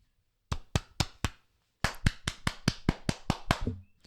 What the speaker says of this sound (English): So, yeah, let's just clap for everybody.